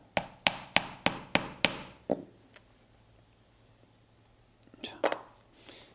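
A hammer strikes a metal hole punch through leather while a mini tote bag is being made, six sharp evenly spaced blows in a quick row, then quiet with a few faint handling clinks.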